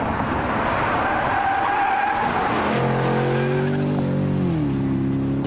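Porsche Cayenne GTS pushed hard on a race track, tires squealing and skidding through a corner before the engine note rises and shifts clearly, loud and close throughout.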